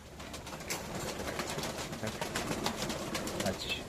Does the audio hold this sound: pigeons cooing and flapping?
yes